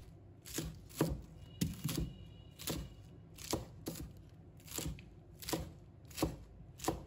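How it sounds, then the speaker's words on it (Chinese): A knife chopping Chinese cabbage leaves into short pieces on a board, about a dozen crisp, evenly spaced cuts, close and clear, without any talking. "再准备几片白菜，把它切成小段。"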